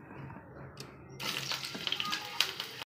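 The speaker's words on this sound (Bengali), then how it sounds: "এখন আমি আলুগুলো ভেজে নেব।" Potatoes hitting hot oil and frying in a pan, a sudden hiss rising into a steady bubbling sizzle with crackling pops, fairly close.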